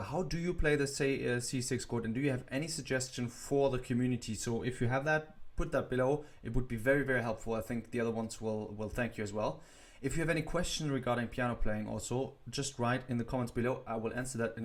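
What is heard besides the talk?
No everyday noises stand out.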